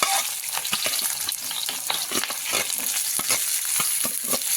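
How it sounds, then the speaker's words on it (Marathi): Chopped onion drops into hot homemade ghee and sizzles steadily up close, with scraping stirs breaking through the crackle; nobody speaks. "आता आपलं तूप तापलेलं आहे आपण कांदा टाकू यामध्ये तुपामध्ये"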